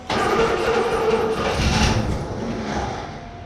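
An old Buick Electra engine cranks and catches, then runs roughly at a steady mid-pitched idle, loud and close, slowly settling.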